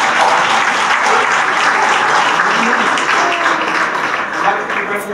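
Dense, sustained applause from a large audience at an annual drug-free hero awards ceremony, steady and loud throughout with no break.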